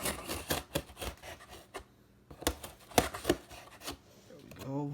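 Scissors snip and scrape while cutting open a sneaker box, giving several sharp close clicks and rustles in two clusters, with someone talking softly at points in between.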